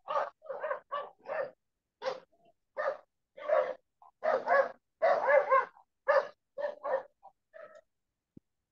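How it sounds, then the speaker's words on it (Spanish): A small dog on board a boat yips and whimpers in a quick run of short, close barks and whines, with no talk over it. "Tenemos perrito a bordo."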